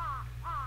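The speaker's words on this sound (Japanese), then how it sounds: "カラスが鳴いてたから。" Two short caws from a crow in the video game Dragon Quest X at dusk, evenly spaced and clear, over a low steady hum.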